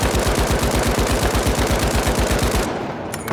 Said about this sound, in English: the Lewis gun feels the same